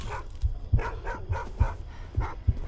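Dogs barking in the horror game Sign of Silence, several short sharp barks spaced irregularly at moderate distance, with faint background ambience and no talking.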